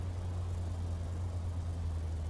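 An old vintage car engine in Taxi Life runs with a steady low rumbling drone, continuous and close with no other sounds over it.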